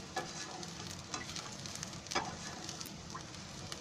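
Onion and coconut sautéing in oil, a soft steady sizzle with light scraping stirs and occasional spatula clicks, close but quiet, with no voices.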